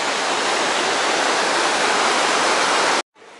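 A loud waterfall near Leukerbad, Switzerland, roars in a thick, steady rush of falling water that cuts off abruptly near the end.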